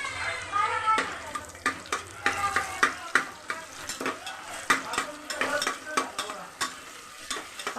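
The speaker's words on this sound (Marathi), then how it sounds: "चांगला कांदा पण परतून घ्यायचा" Chopped onion sautés in a pan for masale bhat while a spoon scrapes and stirs it in quick, repeated strokes over a continuous close frying sizzle.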